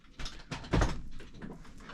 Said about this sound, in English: oh, the sound of the bolt going home